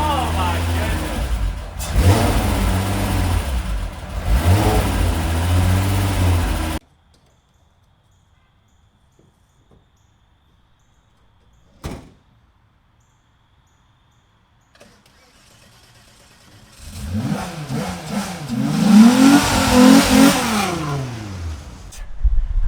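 MK1 VR6 engine that had sat neglected for two years: loud bursts of revving with rising and falling pitch, a long quiet stretch, then another surge of hard revs, with excited voices over it.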